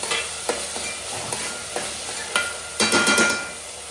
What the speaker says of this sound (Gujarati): ટામેટા થોડા વધ્યા છે તો એક મિક્સ કરી દેવાના.